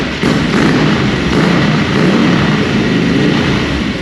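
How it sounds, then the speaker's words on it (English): Loud, continuous roar from a 1970s Italian race motorcycle breathing through a Conti exhaust, a deep thundering engine note held close and steady throughout. "The sound of the Conti exhaust is thunder."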